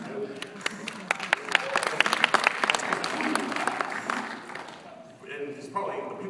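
An audience at a live tech talk at SXSW breaks into scattered, building applause and laughter, with sharp individual claps, while a speaker keeps talking over it before the clapping fades.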